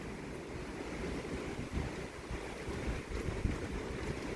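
Strong wind gusts during a heavy thunderstorm roar and buffet steadily outdoors, a loud broadband rush with rumbling low-end swells and no voices.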